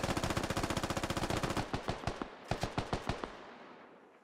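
Rapid automatic gunfire in the military shooter game Squad rattles in a fast, even burst, then slows into scattered separate shots and echoing reports that fade out toward the end.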